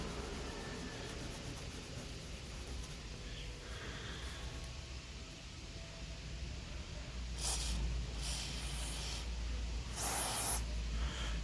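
An aerosol can of WD-40 spray lubricant hisses in several short bursts onto tar on a car's paint, faint and close over steady outdoor background noise.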